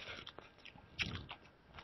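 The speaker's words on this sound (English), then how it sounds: "You're like munching, man." Close, quiet chewing and crunching of food right at the microphone, a few soft bites and mouth noises spread across the moment, with one sharper crunch in the middle.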